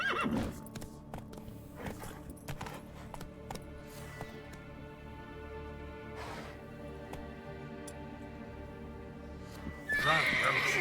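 A horse gallops in The Witcher 3, with steady rhythmic hoofbeats, a whinny and layered game ambience that runs throughout and swells louder near the end.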